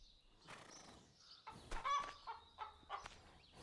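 Chickens in the farming video game Farmer's Life cluck and squawk in a quiet run of short, uneven bursts, the calls growing busier toward the end.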